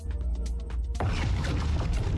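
A plasma cannon from the video game Mechwarrior Online fires once, a sudden heavy booming blast that cuts in after a short lead-in and rolls on as a dense roar.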